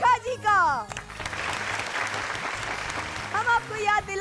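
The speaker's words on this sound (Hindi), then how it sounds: "तो जोरदार तालियों के साथ स्वागत कीजिए बरखा जी का।" Audience applause welcoming a performer onto a stage at a televised classical-themed dance show, a steady burst of clapping between stretches of a presenter talking, with music-like voice tones at either end.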